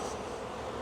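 Honey bees buzzing as they are shaken off a hive frame, a dense close drone of many wings, steady and brief with no voices.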